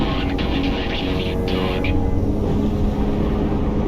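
Steady roaring jet afterburner thrust from a fighter aircraft in the flight combat video game Project Wingman, a continuous loud engine rumble with a faint voice under it.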